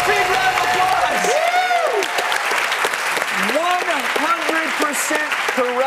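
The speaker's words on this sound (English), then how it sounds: "Big round of applause." A lecture audience bursts into loud, sustained applause with cheering, while a voice talks over the clapping throughout.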